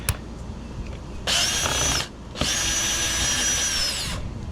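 A power drill backs out the 5/16 inch head screws of a Carefree bracket on a truck camper, giving two loud steady whirring bursts, a short one and then a longer one, heard close and alone.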